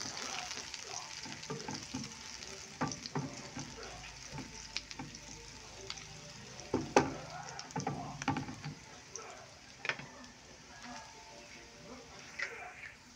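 Onion and garlic frying in hot oil for Bicol express, a steady close sizzle with bursts of stirring and spatula scrapes throughout.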